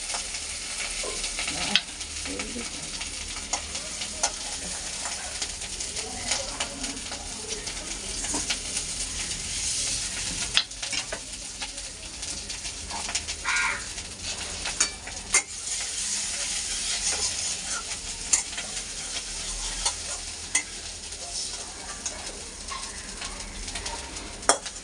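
Potato pieces frying in oil in a wok for homemade biryani give a steady close sizzle, punctuated every few seconds by sharp spatula knocks and scraping against the pan.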